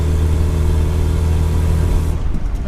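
Engine of a 1992 Rover Mini Cooper S replica pulling up a gentle hill, a loud, close, steady mid-pitched drone from inside the car that eases off near the end.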